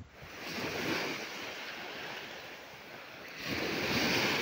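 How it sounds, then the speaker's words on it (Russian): Rough sea waves surge and break on an Odessa beach, a continuous loud wash of surf with wind noise, swelling again toward the end. "море волновалось нехило"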